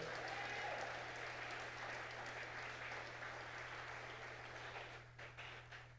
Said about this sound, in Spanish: Démosle un fuerte aplauso al Espíritu de Dios.